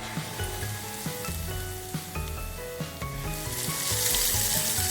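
Hot oil crackles and sizzles over chili flakes, the hiss swelling loud and bright toward the end, with soft music playing underneath.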